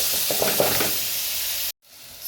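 Chopped tomatoes frying in a pot for pilau, a steady loud sizzle with faint stirring scrapes near the start, cut off abruptly by a moment of silence before the sizzle returns.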